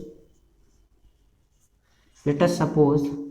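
A marker scrapes faintly across a board during a Class 9 science lesson, a soft scratchy trace heard alone before a teacher's voice begins talking loudly over it.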